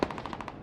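A fast, rhythmic burst of machine gun fire rattles off in a 26v26 online war game match on the Sumari map, about seven rapid rounds in under a second, fairly loud and close.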